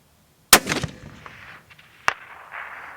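A single sharp, loud Savage Axis 25-06 budget rifle shot with a Weaver scope, fired outdoors at a distant target, followed by a rolling echo and a second fainter crack-like report about a second and a half later.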